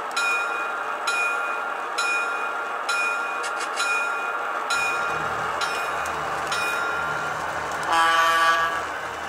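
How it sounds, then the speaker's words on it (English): A small LEGO model locomotive runs steadily with a mechanical whir and rhythmic clicking over track joints, fairly close, with no voices. "this locomotive is able to pull a very heavy train"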